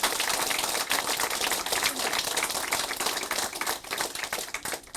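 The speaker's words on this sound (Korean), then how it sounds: "큰 박수 부탁드립니다." Dense, steady applause from a large crowd fills a party's first-anniversary ceremony, continuous and loud for the whole stretch with no voices over it.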